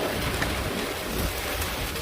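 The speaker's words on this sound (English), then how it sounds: "yeah, it's really raining now." Steady, heavy rain hissing and drumming close by, a dense continuous wash of sound with no voices.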